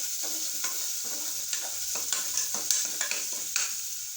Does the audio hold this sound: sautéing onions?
yes